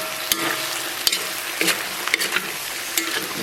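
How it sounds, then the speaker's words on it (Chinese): Pork belly stir-fried in a wok with green chili peppers and hob-cut scallions, giving a steady close sizzle broken by repeated sharp scrapes and clanks of the spatula against the wok. "简单的给它煸炒一下"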